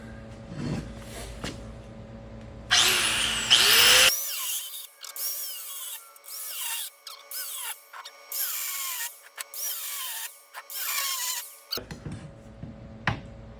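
A thin cut-off wheel grinder cuts metal on the front suspension of a 1960-62 Chevy C10 during a torsion bar delete. A loud, harsh cutting burst is followed by a long stretch of whining, wavering grinding in uneven pulses, close up.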